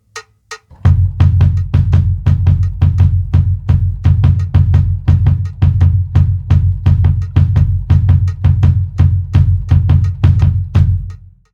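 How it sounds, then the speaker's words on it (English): A single pedal plays a drum double-kick pattern with the first note of each double left out, giving a steady, fast run of loud, punchy kick hits close up with cymbal-like ticks above, and no talking. "If we leave out the first note, it would look and sound like this."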